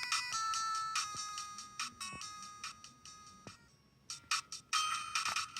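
A rapid series of short electronic beeps and chimes repeats as a handheld clone game console's volume steps down to zero, then the tones jump back high.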